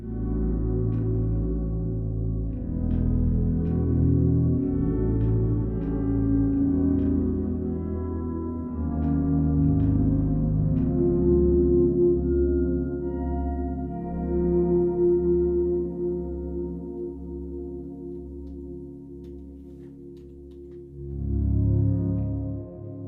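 An ambient Ebo synthesizer patch on a keyboard, part of an Arturia and Spectrasonics setup, swells in soft sustained chords with low droning tones and faint plucked notes, quiet and unbroken by speech.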